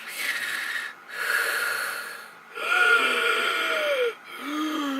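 A voice imitates heavy, loud breathing: several long rasping inhales and exhales, close and noisy, with brief pauses between.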